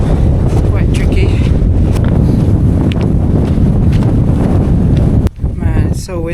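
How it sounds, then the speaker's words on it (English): Strong winter wind buffets the microphone on a foggy mountain trail on Pen yr Ole Wen, a loud continuous roar that briefly drops out near the end. "Man, it's so windy."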